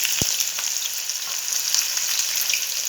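Onions fry in hot ghee with a steady, close crackling sizzle, broken early on by a single sharp knock.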